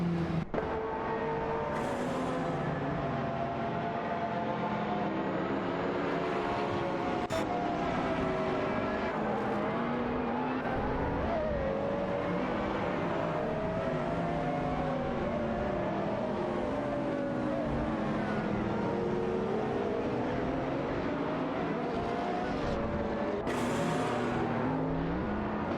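Race cars in an AI racing simulation roar continuously, engines rising and falling as they chase and overtake one another, a dense, loud, unbroken engine drone with occasional louder surges.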